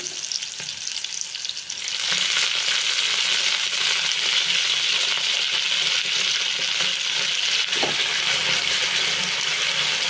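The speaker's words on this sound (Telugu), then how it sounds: "పచ్చిమిర్చి బాగా వేగింది కదండి, పుదీనా వేసుకుందాం." Green chillies and mint leaves go into hot oil for a mint chutney, and after a quiet start a loud, hissing sizzle surges up and holds steady. No voices.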